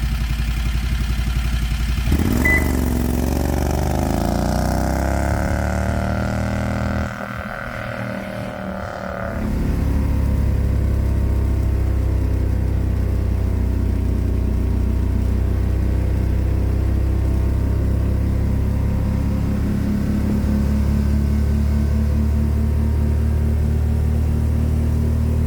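A car powered by a 670 cc Predator engine with dual carburetors roars loudly and steadily under acceleration, with a short drop around a gear change or lift before the engine drones on for the rest of the run.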